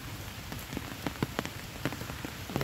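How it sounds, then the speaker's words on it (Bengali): Heavy rain pouring down, a dense and constant hiss of drops hitting surfaces nearby, with scattered louder patters and drips standing out from the steady wash. "এখন কি অবস্থা, প্রচণ্ড বৃষ্টি হচ্ছে"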